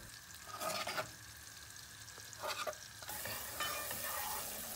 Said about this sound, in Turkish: Soğanlar ölene kadar kavuracağım.